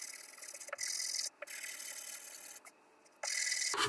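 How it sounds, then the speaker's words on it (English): Sandpaper of 220 grit rubbing wood on a Stewart MacDonald guitar kit build, a few long, steady rasping strokes separated by brief pauses, close and clear with no talk. "This roll of sandpaper happens to be 220"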